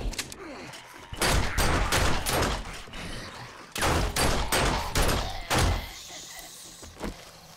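Rapid bursts of gunfire tear into a zombie horde in the video game 7 Days to Die Alpha 20, loud close volleys in several clusters separated by short pauses, trailing off into a few scattered shots.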